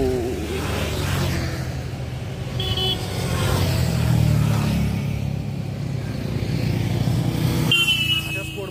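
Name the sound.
motorcycle passing by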